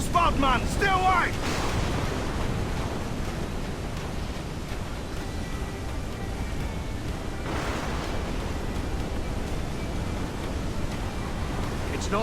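A waterspout at sea in Assassin's Creed IV Black Flag: a steady, loud roar of wind and churning surf that runs the whole time, with a brief swell of rushing noise near the start.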